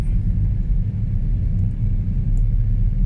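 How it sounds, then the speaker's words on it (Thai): A small Lotus Express vehicle used by elderly people in Bueng Bun, Sisaket, passes in the oncoming lane as a steady low rumble of engine and road noise, fairly close and continuous throughout. "รถผู้สูงอายุในอำเภอบึงบูนก็จะเป็นแบบนี้นะครับ ที่เห็นขับสวนมานะครับ"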